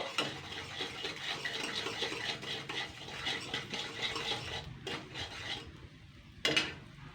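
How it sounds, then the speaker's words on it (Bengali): Chili powder, coriander powder and sugar get stirred over very low heat in a pan, a close, continuous rasping scrape of spoon against metal with faint frying, ending in a few sharper clinks. "লঙ্কার গুঁড়ো আর ধনিয়া পাউডার চিনি এইগুলোকে জাস্ট আমি এক মিনিট নাড়াচাড়া করে নেব"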